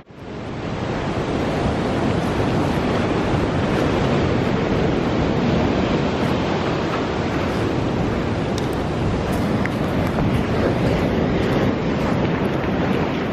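Waves break and wash continuously on a beach, a loud, steady roar of surf mixed with strong wind buffeting the microphone, with no voices.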